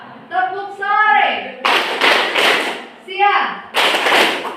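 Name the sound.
classroom students clapping in a clap chant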